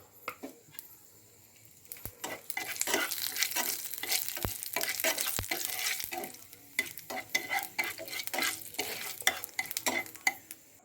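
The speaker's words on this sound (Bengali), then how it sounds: "এর মধ্যে আমি শুকনো লঙ্কা আর 5 ফোড়ন দিয়ে দেবো।" Dried red chillies and panch phoron hit very hot oil in a wok and crackle loudly in a close, busy burst of sizzling and popping, with sharp spatula scrapes and clinks against the pan.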